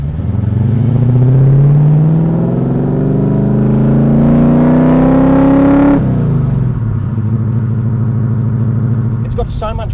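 A 1979 Pontiac Firebird 10th Anniversary Trans Am with a 6.6-litre 400 CI V8 revs loudly from inside the car, the engine note climbing steadily then dropping as it settles to a deep rumble.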